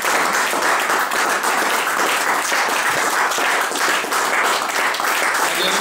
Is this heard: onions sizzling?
no